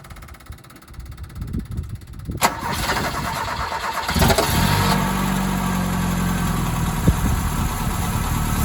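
A Ford Capri engine with a Weber 32/36 carburettor cranks over, then catches and settles into a steady, loud idle close by, with a brief rev near the end.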